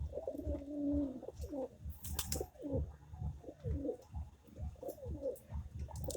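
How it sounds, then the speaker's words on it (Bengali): Pigeons in a homemade rooftop cage coo close by in deep, rolling, repeated calls that overlap one another, with light rustling between the phrases. "কবুতরগুলো দেখেন কি সুন্দর খেলাধুলা করতেছে, ডাকতেছে, ওড়াউড়ি করতেছে।"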